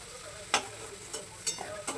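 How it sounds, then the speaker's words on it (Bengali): Fried potatoes lifted from a sizzling pan, a soft continuous frying hiss broken by four brief scraping clatters of a utensil against the pan, close, with no talking. "আলুগুলোকে তুলে নিচ্ছি একটা পাত্রে।"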